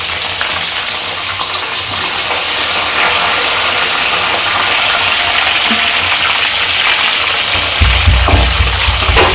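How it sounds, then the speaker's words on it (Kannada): Green chillies and curry leaves frying in hot oil, a loud continuous crackling hiss that holds steady throughout, with a low rumble near the end and no talking. "ಇದು ಚೆನ್ನಾಗಿ ಫ್ರೈ ಆಗಲಿ."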